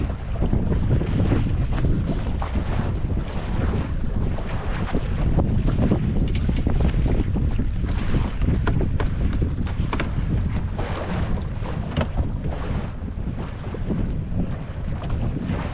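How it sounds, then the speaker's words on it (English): Strong wind buffets the microphone on a boat trolling on Green Lake, Wisconsin, a loud continuous roar with water slapping and no talking. "High wind."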